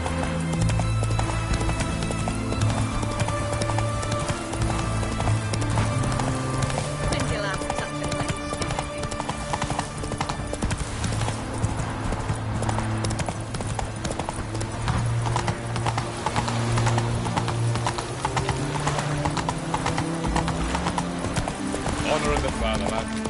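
The horse Roach gallops in The Witcher 3, its steady clip-clop of hooves running without a break under a music score and voices from the game.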